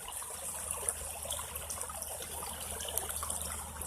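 Small stream flowing into a pond under trees, a faint, steady, continuous wash of water with a soft hiss and no voices.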